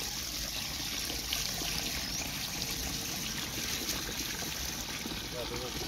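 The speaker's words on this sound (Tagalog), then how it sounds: "lagyan natin ng tubig" Water being poured into a container for mixing watermelon fungicide spray outdoors, giving a steady, soft trickling and splashing wash that runs throughout at moderate level.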